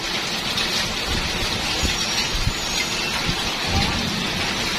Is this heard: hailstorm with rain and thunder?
yes